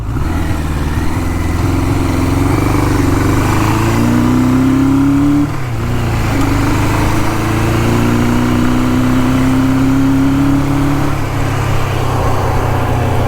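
A 1977 Suzuki GS550 motorcycle on a test ride after carburetor cleaning, its engine droning steadily and loudly up close, pitch rising through the gears with a brief dip midway as it shifts.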